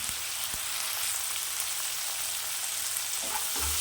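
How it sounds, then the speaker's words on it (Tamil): Two tomatoes frying in hot oil for a dry fish curry give a steady close sizzle with occasional soft pops and stirring clicks, and no one speaks. "தக்காளி நல்லா வறுக்கும்"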